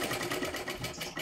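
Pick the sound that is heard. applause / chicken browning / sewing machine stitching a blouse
sewing machine stitching a blouse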